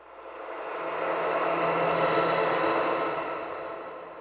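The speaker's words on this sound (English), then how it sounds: "So the pad sounds like this." A soft synth pad from the Nimbus sound library holds sustained chords in a slow, smooth swell that rises and fades over a few seconds, fairly quiet and alone.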